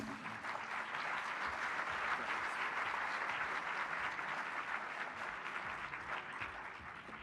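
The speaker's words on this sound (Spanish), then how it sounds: "Lo recibimos con un fuerte aplauso." Steady applause from a conference audience, a dense wash of clapping holding evenly for several seconds.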